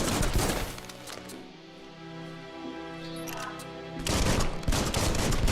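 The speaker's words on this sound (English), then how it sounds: "If I shoot the plant, does that give me anything?" Gunfire in the video game Biomutant, shot at a plant: a loud rattling burst at the start and another near the end, with a quieter stretch of game sound between them.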